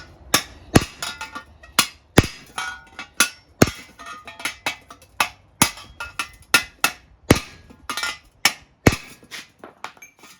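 Repeated sharp hammer blows on a stock Triumph Bobber exhaust silencer to break its welds: about two dozen loud metallic strikes in an uneven rhythm, close to the mic, with no talking.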